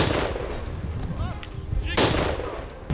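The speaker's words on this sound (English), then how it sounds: "A thunderous gunshot echoed through the field." A loud gunshot cracks across an open field during a wild boar hunt in New South Wales, a sharp blast at the start followed by echoing rumble, with further sharp reports near the two- and three-second marks.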